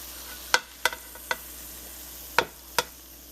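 A utensil scrapes and taps against a pan while beef and onion stir fry is plated, five or six sharp, close clinks spaced irregularly over a faint steady background, with no talk.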